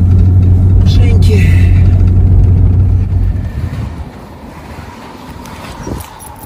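A vehicle labors through deep snow in Yakutia, its heavy engine rumbling loudly and steadily for about three seconds before fading to a quieter, windy rumble with a brief bump near the end.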